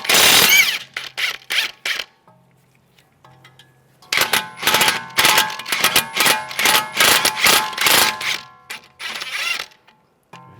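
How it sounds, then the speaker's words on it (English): A socket wrench removes the lower strut bolts on a 2011-2015 Chevrolet Cruze during front CV axle work. Loud, rapid ratcheting comes in quick clicking bursts, with a short quiet gap in the middle. "We're going to take the lower strut bolts out."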